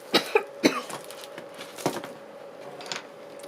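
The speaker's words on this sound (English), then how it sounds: "I'm still coughing." A woman coughs several times in a quiet indoor room while folding decorative papers for a wedding folio. There are two or three close, sharp coughs at the start and a softer one later.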